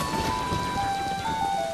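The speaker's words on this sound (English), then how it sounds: "now we're in the second day, so now it's raining" Steady rain falling in the video game Zelda: Majora's Mask, a continuous hiss of drops with faint tonal game music running through it, no talk.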